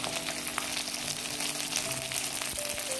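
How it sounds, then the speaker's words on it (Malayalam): Urad dal, coriander seeds and curry leaves frying in oil for varutharacha chammanthi, a dense steady sizzle with small pops and crackles, close and without talk. "ഈ ഉഴുന്ന് പരിപ്പും മല്ലിയും കൂടെ ഇട്ട് കൊടുക്കാം കറിവേപ്പിലയും"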